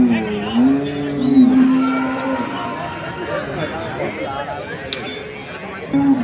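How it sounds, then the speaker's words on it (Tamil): Bargur hill cattle at the Saturday cow market in Anthiyur give a drawn-out low moo amid a busy crowd, with traders talking close by and steady market chatter throughout. "இதெல்லாம் பர்கூர் மாடுங்க."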